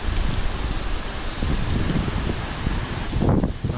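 Heavy rain pours steadily over a field in severe weather, a dense close patter with some wind buffeting the microphone.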